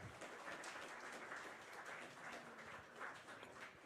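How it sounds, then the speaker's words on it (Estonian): Applause for children at a university game jam presentation event: steady, fairly faint clapping from an audience, continuous for a few seconds with no talk over it. "Tehke lastele aplaus"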